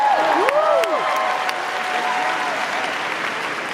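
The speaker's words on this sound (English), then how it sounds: "Don't applaud to me" A concert-hall crowd at a Rock and Roll Hall of Fame induction in Brooklyn applauds steadily throughout, clapping dense and continuous, with a few whistles rising above it early on.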